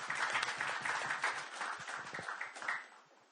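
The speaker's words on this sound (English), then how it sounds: "I think I would give a very big round of applause to Jayesh Shah and his team" Brief, fairly faint applause from attendees at a Mumbai exhibitors' meeting, clapping steadily before fading out in the last second.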